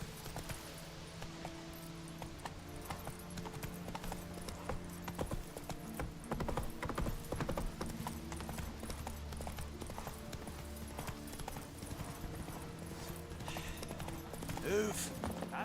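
Hooves of Geralt's horse Roach in The Witcher 3 clip-clop in a steady galloping rhythm, fairly close and continuous, with brief speech over the hoofbeats.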